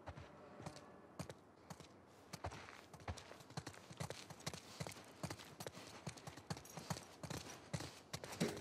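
Horse hooves clip-clop steadily in The Last of Us Part II, a brisk rhythmic run of close, distinct hoof strikes over ambient game sound, with no talk.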